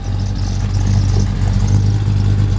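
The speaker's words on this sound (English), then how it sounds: "Exhaust sounds good coming out the back. Nice little rumble." Low, steady exhaust rumble from a 1948 Ford F1 custom pickup idling, a continuous loud engine drone with no talking.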